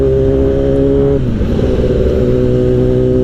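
Kawasaki ZX-10R sport motorcycle engine, a loud continuous close-up drone that holds steady, dips briefly in pitch midway, then settles back, with no talking.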